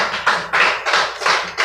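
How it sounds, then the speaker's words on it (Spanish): A church congregation applauding at a Pentecostal service, loud close claps in rhythmic bursts roughly every third of a second, with no voices over them. "Puede tomar su lugar dándole un fuerte aplauso al Señor."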